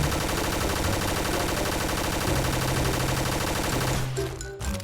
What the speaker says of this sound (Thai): เดี๋ยวเรามาดูการยิงค้างนะครับ